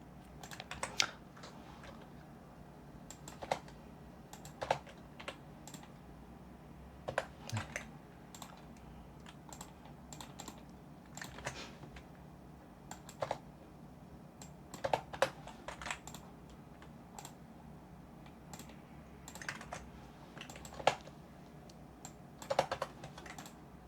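Steady typing on a computer keyboard, including a Ctrl+V paste, heard close up as irregular clusters of sharp key clicks with short pauses, no voices.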